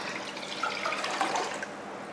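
Water splashes and gurgles steadily as it is poured into a vessel, close by, with no voices.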